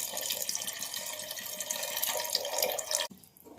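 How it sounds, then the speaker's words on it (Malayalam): Tamarind water is poured into a pan of hot oil for a Palakkad-style mackerel curry: a continuous splashing, hissy pour that stops abruptly after about three seconds. "പുളിവെള്ളം ഒഴിക്കുക"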